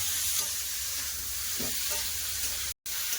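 Onion and spices fry in hot oil with a constant soft sizzle and hiss, a faint stirring scrape midway, and a momentary cut to silence near the end.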